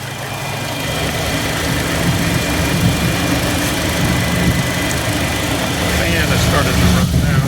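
A 2012 Chevrolet Cruze turbo engine with an oil leak at the turbo runs steadily with a low rumbling idle and constant vibration, close by, without pauses.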